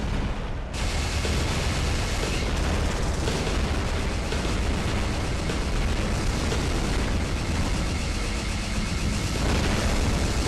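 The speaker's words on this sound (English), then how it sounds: "Did he just shoot me through the floor?" Heavy weapon fire in the War Robots video game on the Castle map, a shot blasting up through the floor: a dense, loud, continuous roar of explosive booms and impacts filling the whole stretch.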